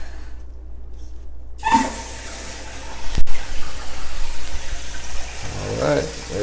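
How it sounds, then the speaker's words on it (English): Water starts rushing into a toilet tank through the fill valve after a quiet moment, a steady hissing fill that continues, with faint valve squeaks near the end. "Now we're going to turn the water on."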